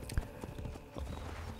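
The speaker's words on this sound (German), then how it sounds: "dann hole ich erstmal mein Pferd" Horse hooves clip-clopping in the video game Assassin's Creed Brotherhood, a quick run of soft hoofbeats at a moderate distance against a faint game background.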